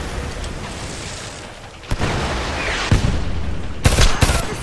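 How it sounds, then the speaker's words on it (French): Heavy gunfire from the video game Homefront, a helicopter-recovery firefight: sustained rattling shots with several sharp loud bursts near the end, dense and close. "Ça suffit des tirs nourris."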